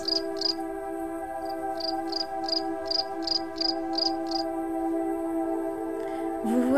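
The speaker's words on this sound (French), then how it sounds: "Et le chant des cigales qui vous berce à chaque seconde un peu plus." Cicadas in a grassy summer landscape chirp in a steady series of short, regular pulses, faint and rhythmic, laid over a sustained soft musical drone.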